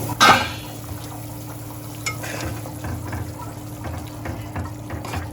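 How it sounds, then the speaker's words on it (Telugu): Water bubbles in a pot on the stove for mushroom biryani, a steady low bubbling under a sharp metallic clank at the start and a few light utensil knocks. "ఇది మరుగుతుంది"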